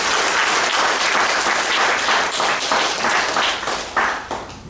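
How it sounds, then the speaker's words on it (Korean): A room of guests at a church service applauds a newly engaged couple, dense and steady clapping held at full strength before it thins out in the final second. "박수 한번 보내주세요."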